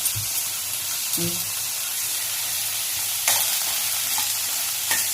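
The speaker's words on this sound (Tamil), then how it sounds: "இது தேவையான அளவுக்கு உப்பு போட்டு நல்லா வதங்க வைக்கணும்" Onions sauté with rock salt in a pan for a village-style crab gravy, giving a continuous close frying hiss broken by a few spoon scrapes and clinks, with no talk.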